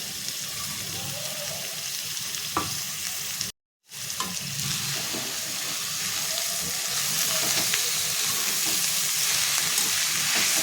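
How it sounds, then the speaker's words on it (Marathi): Dal (lentils) with finely chopped spinach fries in a pan with a steady, close sizzle that runs throughout, briefly cut off once, with faint stirring clinks over it. "पाच मिनटं दाल छान फ्राय करून झाली तर आपल्याला त्याच्यामध्ये बारीक कट करून घेतलेला पालक टाकून घ्यायचं आहे"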